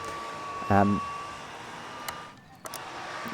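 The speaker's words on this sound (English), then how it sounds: "So, this is just like a hairdryer or something." A hair dryer blows a steady, airy whoosh while drying cleaning alcohol off a video game cartridge, with a short electronic beep early on and a brief dip in the noise near the end.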